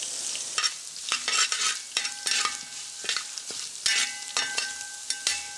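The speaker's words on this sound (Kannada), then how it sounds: "ಸಣ್ಣಕ್ಕೆ ಕೊಚ್ಚಿಟ್ಟಂತಹ ಹಸಿಮೆಣಸು ಮತ್ತು ಶುಂಠಿ ಎಣ್ಣೆಗೆ ಹಾಕ್ತಾ ಇದ್ದೇನೆ." Finely chopped green chili and ginger fry in oil while a spoon stirs and scrapes the pan in irregular clinks and taps over a steady soft sizzle, close and without talk.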